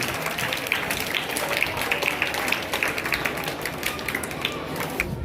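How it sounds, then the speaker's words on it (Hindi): Audience applause at a school ceremony, a dense continuous clatter of many hands clapping that holds at an even level throughout. "आप तमाम की जोरदार तालियां।"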